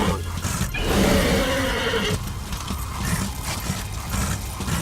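Horses neigh and whinny in the Darksiders: Wrath of War video game, a loud, close call rising over game sounds with no talk.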